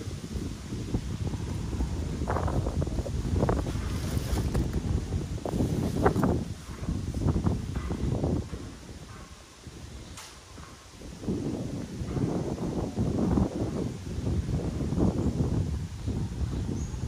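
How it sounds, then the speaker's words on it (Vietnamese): Strong outdoor wind blows in gusty, rumbling waves for the whole stretch, buffeting the microphone loudly with low roaring bursts and brief rustling, easing for a moment midway before rising again. "Ở ngoài này giông gió lắm quý vị."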